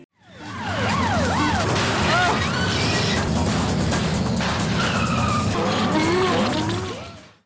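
Car noise from an obscure 1990s PC game: engines roar as tires screech and skid repeatedly, punctuated by crunching crash impacts, loud and continuous throughout.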